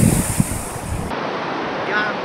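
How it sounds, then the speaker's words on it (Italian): Atlantic Ocean surf breaks on a white sand beach lined with palms at Kotu in Gambia, a steady, loud roar of rushing water mixed with heavy wind buffeting the microphone. "Posso toccare con mano l'immenso oceano Atlantico."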